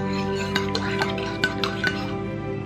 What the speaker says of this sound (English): Put a little bit of stevia in there. We have to stir it.